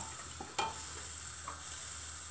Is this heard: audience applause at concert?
no